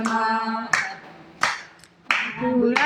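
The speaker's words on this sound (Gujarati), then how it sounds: "કોઈ આવે તાળીઓ પાડવા પ્રભુના ભજનમાં" Hand claps during a devotional bhajan, four sharp claps spaced under a sung melody, the voice carrying on between them close to the listener.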